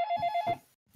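A telephone rings in the signal box simulator game StellwerkSim: a loud, close electronic trill in rapid pulses for about half a second, then silence before a voice begins.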